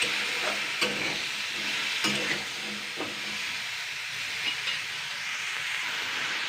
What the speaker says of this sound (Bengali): ফ্রাই করে নেবো আগে। দুই 3 মিনিট ধরে।